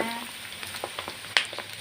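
Pork belly frying in fish sauce in a hot pan, a soft continuous sizzle punctuated by scattered pops and crackles, one sharper spit standing out, heard close with no talking.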